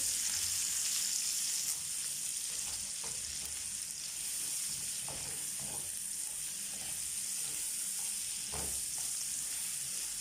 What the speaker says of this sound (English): I will add my garlic and ginger and just stir